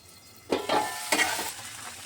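A mixed vegetable curry with drumstick stalks bubbles and sizzles in a pan, with two brief bursts of stirring and a soft hiss between them.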